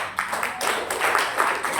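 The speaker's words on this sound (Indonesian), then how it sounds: "Beri tepuk tangan dong" A church congregation claps during a sermon, a brief burst of many hands clapping in a loose rhythm, fairly close and steady, with faint voices mixed in.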